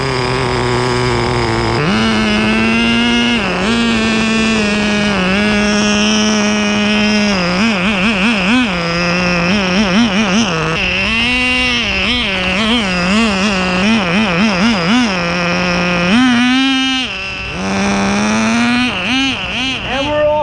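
A Thunder Tiger F-1 Formula nitro RC car with a laydown engine and dual exhaust runs loud and close, idling steadily and then blipping the throttle into repeated rising and falling revs.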